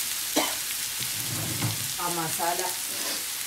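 Chicken winglet masala with curry leaves sautés in a pan, a continuous sizzle running under a person's speech.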